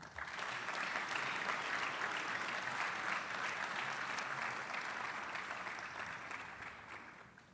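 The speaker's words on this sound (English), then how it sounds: "Let's give everyone a round of applause." At a medical school graduation hooding ceremony, an audience bursts into sustained applause, a dense steady wash of clapping heard from some distance that fades slightly at the end.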